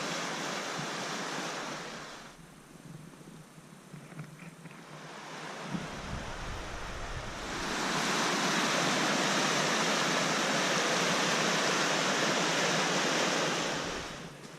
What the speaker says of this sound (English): River's certainly up quite a way, because with all the rain that we've had.